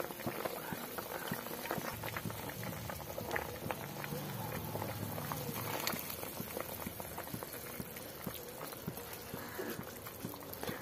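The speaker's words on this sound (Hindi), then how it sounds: "तो हमारे सब्जी में उबाल आ चुकी है।" A pot of fish and okra curry bubbles at a rolling boil, with dense, continuous popping and gurgling at close range and a few faint clinks in between.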